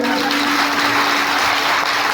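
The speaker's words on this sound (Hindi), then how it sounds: "अब एक बार ताली अपने लिए बजा दो।" A devotional gathering's audience at a Devi Bhagavat recitation in Greater Noida clapping for themselves, a loud, dense and steady wash of many hands with a low hum running beneath.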